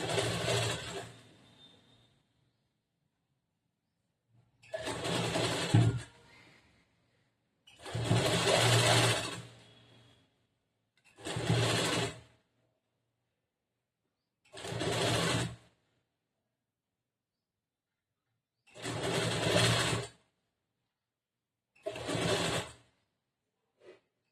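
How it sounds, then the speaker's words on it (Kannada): A sewing machine stitches a blouse neckline in a series of separate bursts, each running a second or two, with short silent pauses between them and no talk. "ಅದನ್ನ ಒಂದು ದೊಡ್ಡ ಹೊಲಿಗೆ ಹಾಕೊಂಡ್ ಬಿಟ್ಬಿಡ್ಬೇಕು"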